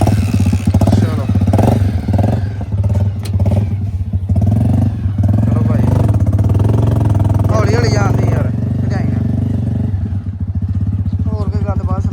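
A motorcycle engine at a dairy farm runs steadily nearby with a loud, low, throbbing idle and some mechanical clatter, while people talk over it throughout.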